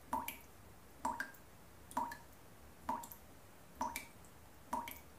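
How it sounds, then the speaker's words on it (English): A water tap drips steadily, six crisp, faint drops landing at an even pace of roughly one per second against a quiet background. "even a sound of small intensity like the dripping of a tap"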